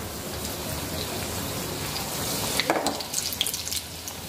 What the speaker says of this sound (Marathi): अशा पद्धतीने आपण ही जी सगळी पानं आहेत ती तळून घेणार आहोत